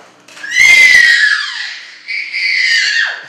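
A baby bouncing in a jumper lets out a loud, long high-pitched squeal, then a second rising shriek, close and alone with no other sounds.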